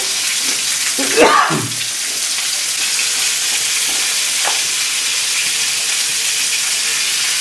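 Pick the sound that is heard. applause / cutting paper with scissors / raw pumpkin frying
raw pumpkin frying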